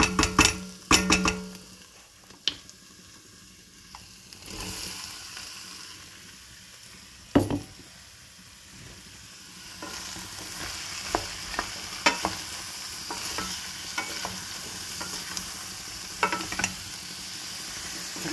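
Mixed chopped vegetables fry in a pan with a soft, steady sizzle, while a utensil stirs them and scrapes and clinks against the metal in irregular sharp knocks, close up and without talk.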